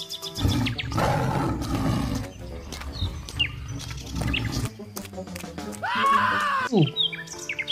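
A tiger gives a deep, loud roar up close, followed by other wild animal calls and bird chirps in a lively children's cartoon soundscape.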